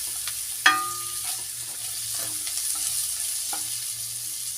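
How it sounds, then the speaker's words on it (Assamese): A spatula clatters sharply against a pan as a cauliflower and potato fry with peas is stirred, followed by a gentle, steady sizzle and a few softer scrapes. "আৰু খুব ভালদৰে মই লৰাই দিম।"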